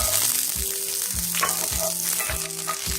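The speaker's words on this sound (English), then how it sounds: "Now in an iron skillet, we have heated around 3 to 4 tablespoons of olive oil. Now add the garlic" Garlic frying in three to four tablespoons of hot olive oil in an iron skillet, a loud, close, steady sizzle with rhythmic scraping knocks of a utensil stirring roughly twice a second.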